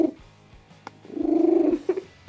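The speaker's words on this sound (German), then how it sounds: "ihren Rekord für das lauteste Katzenschnurren" Record-holding loudest cat purr, a sustained buzzing rumble swelling loud in the middle of the clip, with softer purring and brief clicks before and after, close and alone.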